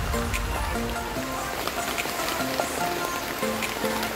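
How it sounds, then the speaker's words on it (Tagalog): Heavy rain falls in a dense, steady patter on nearby surfaces, continuous and loud, with faint tonal sounds in the background and no clear speech. "Ang bakas na guys ng ulan."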